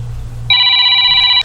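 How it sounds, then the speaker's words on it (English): An old landline telephone at a remote station suddenly starts ringing, a loud, steady electronic ring that cuts in after a quiet low hum and sounds continuously for about a second before stopping. "Didn't know the phone line here was still active. I guess let's see who's calling."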